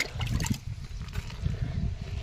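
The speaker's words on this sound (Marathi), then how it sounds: "त्यात पाणी टाकून" Water pours into a farm jeevamrut mixture made with cow urine for a tomato crop, giving a steady, fairly quiet trickling and gurgling flow with no voices.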